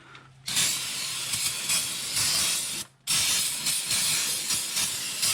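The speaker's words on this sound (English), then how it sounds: "The brake cleaner will definitely do it, and then I'll replace whatever." Brake cleaner sprayed from an aerosol can into a car engine bay around a 5.3L LC9 V8, two long loud hissing bursts up close separated by a brief pause.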